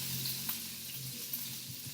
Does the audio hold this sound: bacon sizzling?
yes